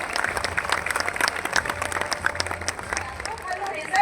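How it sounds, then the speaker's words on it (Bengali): An audience claps at a Kolkata Police Welfare Committee event for Police Day, a steady mass of applause with crowd murmur and babble running throughout. "একটু জোরে হাততালি হোক।"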